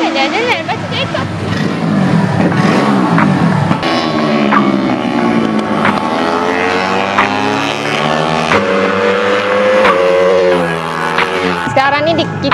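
Cub prix racing motorcycle being test ridden at a track, its small engine buzzing and rising in pitch through several revs under steady crowd and voice chatter.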